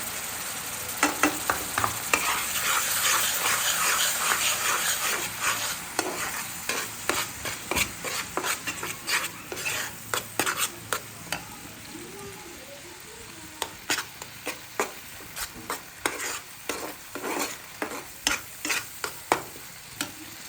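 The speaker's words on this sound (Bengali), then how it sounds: "দেখেন মশলাটা কষাতে আমার 2 থেকে 3 মিনিট সময় লাগবে।" Masala with onion and ginger paste frying in a pan for a prawn curry, with a constant sizzle and many sharp, rhythmic spoon scrapes and taps as it is stirred, close and unvoiced.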